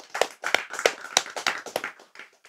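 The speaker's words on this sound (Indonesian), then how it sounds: "Tepuk tangan," A small group claps in a loose, uneven rhythm during a religious study talk, about eight sharp, close hand claps that taper off and soften near the end.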